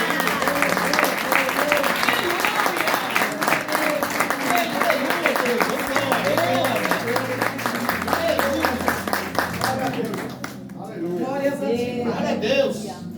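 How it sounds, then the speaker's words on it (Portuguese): A church congregation applauds during a worship service, sustained clapping from many people with music and voices mixed in, fading briefly near the end before rising again. "A igreja pode aplaudir para ele."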